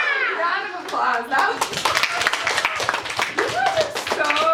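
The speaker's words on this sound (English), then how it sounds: "Round of applause." A group of children clapping in a classroom reading lesson, sharp uneven claps mixed with kids' voices and a teacher talking at the start and end.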